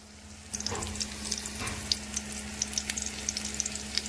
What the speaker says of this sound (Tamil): பெரிய வெங்காயம் கொஞ்சம் கட் பண்ணி போட்டிருக்கிறேன் வதக்கிறதுக்காக